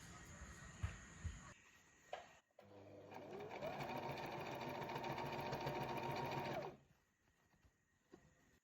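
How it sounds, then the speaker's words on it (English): A sewing machine stitches Christmas stocking pieces together in a steady whirring run of about four seconds, close and clear, framed by quiet handling clicks before and after. "I'm just going to stitch them both together so that they don't move"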